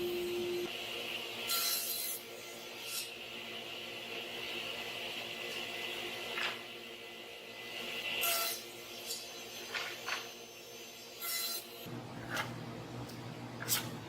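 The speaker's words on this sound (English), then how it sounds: "So one or two swipes on the sandpaper cleans up all the fuzzies." Zebra wood rubbed across sandpaper, a soft raspy scraping in a few short strokes heard faintly over steady workshop background noise.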